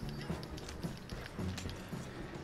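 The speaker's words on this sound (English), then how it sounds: "It's a good thing I spawned on my horse." Horse hooves clip-clop in a video game, a quiet, steady galloping rhythm running throughout with faint game ambience underneath.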